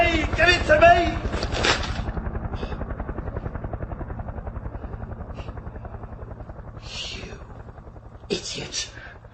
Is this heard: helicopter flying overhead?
yes